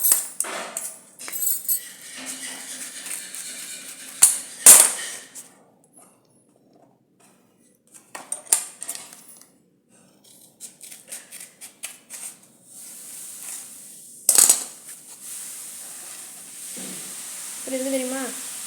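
Scissors cut material to size for a handmade pencil box, giving scattered, sharp snips and rustles separated by quiet gaps, with a voice speaking at times.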